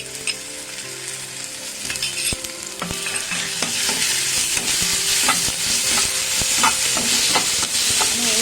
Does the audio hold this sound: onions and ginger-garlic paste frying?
yes